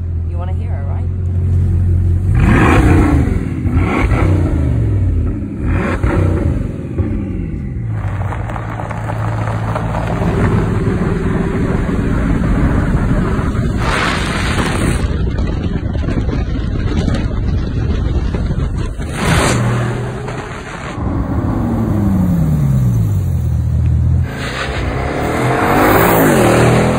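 Bugatti Chiron's engine revving hard and accelerating, loud and close with repeated rising and falling sweeps as it pulls through gears, heavy wind buffeting on the microphone, and someone talking over parts of it.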